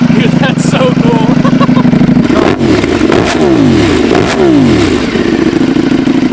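Ducati Panigale V4S motorcycle fitted with an $8500 aftermarket exhaust, loud and close, idling roughly then revving in sharp rising and falling bursts, with people talking excitedly over it.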